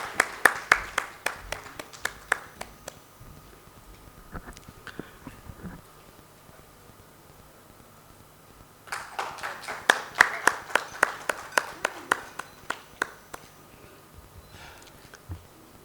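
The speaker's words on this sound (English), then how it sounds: "We need a big round of applause for him." At a retina medical conference, a modest audience claps for the president in two separate bursts of sharp, fairly sparse handclaps, with a quiet pause between them.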